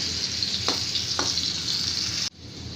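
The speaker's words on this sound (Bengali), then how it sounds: "এখন আলুটা ভাজবো হালকা ব্রাউন কালার না হওয়া পর্যন্ত" Potatoes sizzle and crackle steadily as they fry in hot oil, with a couple of soft scraping stirs, before the sizzle suddenly cuts out near the end.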